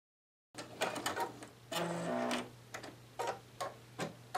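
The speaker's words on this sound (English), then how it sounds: "now it's going to stitch the inner shamrock." An embroidery machine stitching a shamrock in green thread, a quick irregular run of ticking and tapping stitches with short mechanical whirs, close and fairly quiet after a moment of silence.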